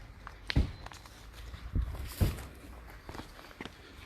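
Footsteps on foot outdoors, a handful of close, uneven steps with soft scuffing over faint background noise.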